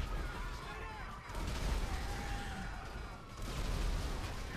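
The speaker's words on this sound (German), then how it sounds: "Boah, Explosionen!" Explosions and gunfire rumble through GTA V Online during a tank session, a dense, continuous barrage of booms swelling in two loud waves, with speech mixed in.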